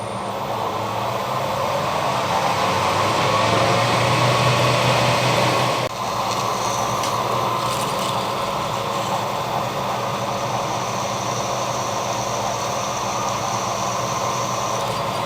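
A drill running steadily through metal for a 10mm hole, a loud continuous machine drone with a brief break partway, close by and without voices.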